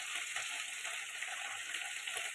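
Turmeric, chili and salt sizzle in hot oil in a pan for a rohu fish curry, a bright steady frying hiss with soft stirring scrapes, close and continuous.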